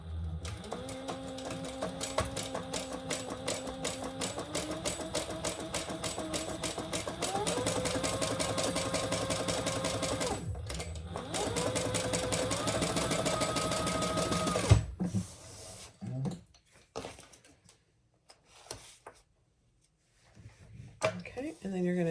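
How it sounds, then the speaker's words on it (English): Sewing machine stitching a clutch's slip pocket lining and exterior together at the seam allowance: a steady, close mechanical whir with rapid needle ticking that shifts speed twice, runs about fifteen seconds, then stops, followed by fabric handling. "you're going to sew that together at the seam allowance in the pattern"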